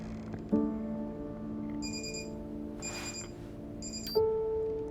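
Alarm clock ringing inside the video game Hello Neighbor 2: a steady electronic ring with sharp onsets near the start and again near the end, fairly loud and heard alone without talk.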